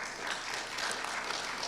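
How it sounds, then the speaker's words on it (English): An audience at a financial fitness seminar breaks into steady, dense applause that fills the whole short stretch at an even level, with no voices over it. "So without further ado, Mr. Bryant, why don't we give him a round of applause as he comes up."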